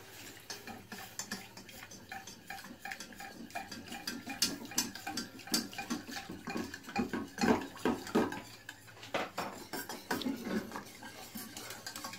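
Milk poured slowly into a saucepan for homemade parsley sauce, a soft liquid trickle with light clinks and stirring taps against the pan, fairly quiet and without talk.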